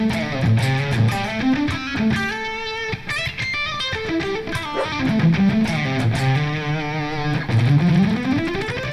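Electric guitar run through preset 10 of a Flatsons KMF-1 budget multi-effect pedal, a distorted riff of bends, slides and ringing notes with sharp pick attacks, played loud and upfront without any speech.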